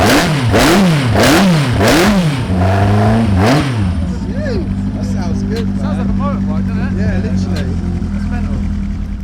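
A Hillman Imp race car engine blips its throttle in four quick, loud rising-and-falling revs, then settles into a rough, rumbling idle up close.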